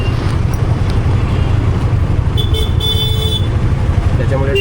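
Car horns toot briefly amid steady, loud road traffic noise near an auto-rickshaw stuck behind stopped buses, with people talking over it.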